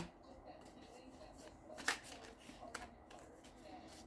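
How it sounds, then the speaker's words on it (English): Tarot cards being shuffled, a soft riffle and flutter of card stock with a sharper snap near the middle, quiet and close with faint background noise. "I'm just going to shuffle through these cards real quick"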